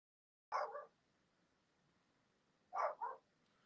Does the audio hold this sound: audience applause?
no